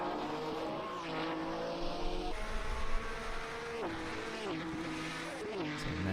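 Engines of 1967 Formula One cars, a Ferrari among them, racing at Mount Panorama in a racing video game, a steady layered high-pitched drone with audible gear changes as the pitch drops and climbs again, sounding moderately close.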